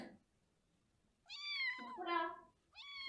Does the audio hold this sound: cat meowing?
yes